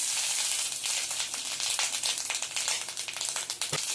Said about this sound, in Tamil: எடுத்து வச்சிருக்க தேங்காயையும் வறுத்துக்கலாம்.